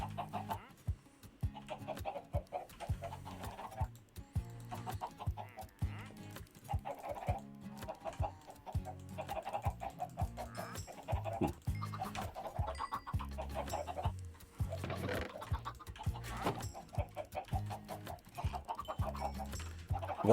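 Chickens on a video-game farm cluck and chatter continuously, a busy flock sound that stays fairly quiet but steady throughout.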